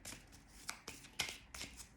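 Tarot cards shuffled by hand for a love reading, with several quick riffling bursts separated by short pauses, soft and close.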